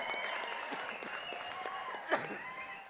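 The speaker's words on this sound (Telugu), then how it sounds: "క్లాప్స్ కొట్టండి ఒకసారి." Audience clapping at a Liger film fan event in Warangal, a steady wash of applause from a crowd filling the whole stretch, fairly loud with a brief sharper burst near the end.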